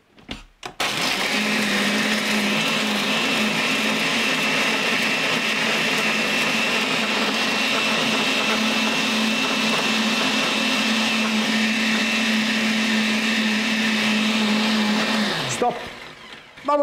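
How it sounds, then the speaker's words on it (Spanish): A blender grinds a piña colada cocktail of fruit or fruit premix with rum, a steady loud whirring motor running continuously for about fifteen seconds before cutting off abruptly. "Procedemos a moler el cóctel."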